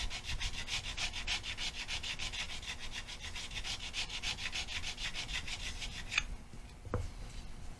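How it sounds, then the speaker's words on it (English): A finer-grit leveling bar rubbed back and forth across the frets of a Stratocaster neck, a steady close scraping rhythm of quick strokes that stops near the end, with no talk. "I'll even come in with this finer grit bar here and just kind of work it across the top like that"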